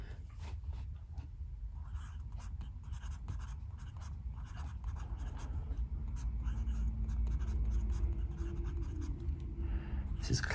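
A fountain pen scratches steadily across Rhodia 80 gram paper up close, a faint continuous scritching with small strokes and pauses over a low background hum.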